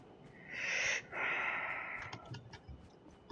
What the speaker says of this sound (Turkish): Niye böyle bir derin nefes aldın?